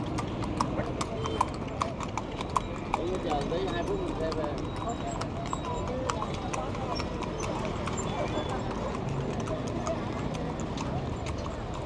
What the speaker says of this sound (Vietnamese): xe ngựa là đặc trưng của phố núi mà